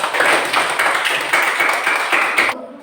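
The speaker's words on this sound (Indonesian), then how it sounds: "Tepuk tangan untuk Bella." A short burst of group clapping from children in a Sunday school class, brisk and fairly close, ending abruptly.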